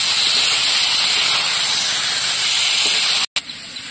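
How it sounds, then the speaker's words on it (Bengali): Fried potatoes stir-fried in a spicy masala for a village-style pangas fish curry, a loud, steady, close hiss of frying that cuts off briefly near the end, then resumes. "এবার ভেজে রাখা আলুগুলো দিয়ে দেবো। আর একটু কষিয়ে দেবো।"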